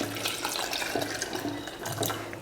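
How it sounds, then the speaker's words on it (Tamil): Water pours steadily into a pot of lentils and tomato for a Tamil-style dal to serve with puri, a continuous splashing stream close by with no talk. "இந்த அளவுக்கு தண்ணி சேர்த்துக்கோங்க"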